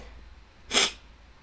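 A single short sneeze bursts out sharply against a quiet room, brief and fairly loud.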